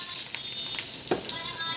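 Mustard seeds, cumin and chana and urad dal crackle and sizzle in hot oil for a tempering, a steady close frying hiss with a few sharper pops, no one talking.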